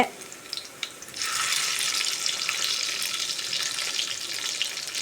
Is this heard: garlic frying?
yes